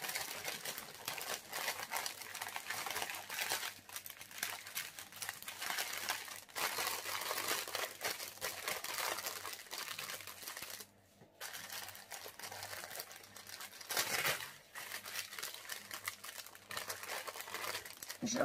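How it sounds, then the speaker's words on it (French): Paper crumples and crinkles steadily, close and fairly quiet, as it is stuffed back inside a package holding round pearls and diamonds, with a brief pause partway through. "Je remets le papier à l'intérieur"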